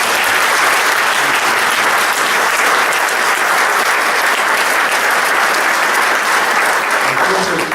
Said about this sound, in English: let's give the school system and Mike a round of applause.